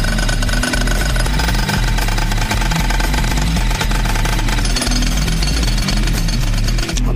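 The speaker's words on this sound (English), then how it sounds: "I can jackhammer that slab out." Rapid, pounding jackhammer blows breaking a concrete slab, loud and close, a continuous rattling burst with engine drone beneath.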